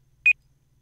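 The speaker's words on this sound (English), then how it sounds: "Timer's going off." A single short electronic timer beep in the game Unturned, one bright tone lasting about a tenth of a second against near silence.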